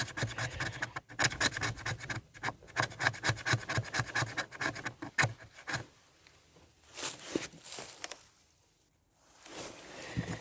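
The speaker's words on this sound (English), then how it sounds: "we keep shaving" A blade shaves wood into a tinder pile for a fire kit, with rapid rhythmic rasping strokes up close for several seconds, then slower scrapes and a pause.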